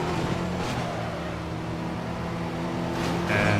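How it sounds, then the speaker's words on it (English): A car engine roars under a nitrous boost while racing in Midnight Club 3: DUB Edition Remix in San Diego, a steady loud drone with a rising pitch toward the end. "I use my second shot of nitrous."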